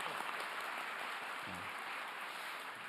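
Audience clapping at a town hall meeting in northern Gyeonggi Province, a steady wash of applause throughout with a brief low voice near the middle.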